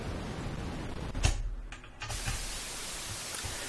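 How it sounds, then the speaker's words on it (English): Steady broadband hiss of white noise from a Quantum Rainbow 2 noise generator, briefly interrupted by a click and a short dip before the even hiss resumes. "So that's white noise."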